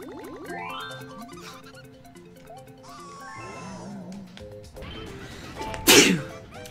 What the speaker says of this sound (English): Sneezing.